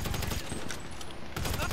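Suppressive gunfire in a video game rattles in rapid, dense bursts, loud and close, with a brief lull before another volley.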